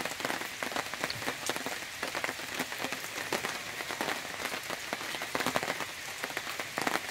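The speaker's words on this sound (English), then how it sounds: "And woke up to rain this morning." Steady rain falling at a campsite in Delta Lake State Park, a dense patter of drops striking surfaces with frequent sharper taps, soft and continuous with no voices.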